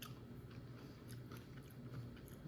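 Close, quiet crunching and biting sounds from someone chewing crisp Greek salad, steady and repeated against a faint low hum.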